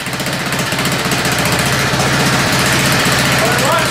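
A Craftsman LT4000 lawn tractor engine runs loud and close while it warms up, with a rapid, even chugging pulse throughout.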